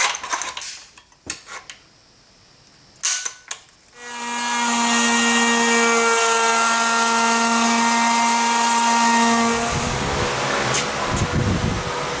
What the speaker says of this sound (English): I've got this 1/2 inch router bit.